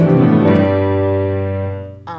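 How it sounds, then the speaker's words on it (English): A piano plays the lion theme from Carnival of the Animals, a sustained low rumbling chord that rings out loud for about two seconds and fades, followed by a brief new attack. "And the lion roared on the piano."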